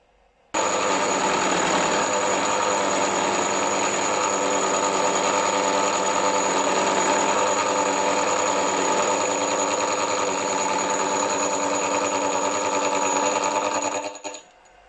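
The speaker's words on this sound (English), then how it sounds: "I can carry on and cut the teeth on my gear blank now" Steady, continuous mechanical whir and cutting drone of a model engineer's machine cutting teeth on a gear blank for a 2-inch Fowler showman's traction engine, loud and unbroken for about fourteen seconds before stopping.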